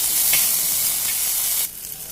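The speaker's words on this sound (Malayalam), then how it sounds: "വെളിച്ചെണ്ണ ചൂടാകുമ്പോൾ അതിൽ ജീരകം ഇടുക ചെറുതായി വെച്ച് ഉള്ളി ഇട്ട്" Cumin and onion frying in hot coconut oil give a loud, close, steady sizzle that drops off sharply near the end and then eases back in more quietly.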